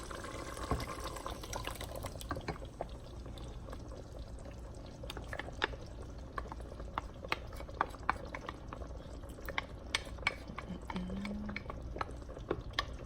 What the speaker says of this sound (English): Next, I'm going to pour my tomato puree.